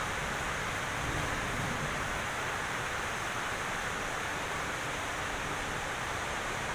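A constant broadband roar of rushing water and heavy rain at a warehouse in Santa Maria, dense and unbroken, steady in loudness throughout.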